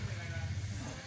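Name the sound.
Kathewadi goat bleating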